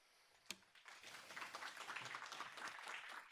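Audience clapping after a lecture at a data science fellowship program, beginning after a single sharp tap and building into a steady, moderately distant round of applause in a room, fairly quiet overall.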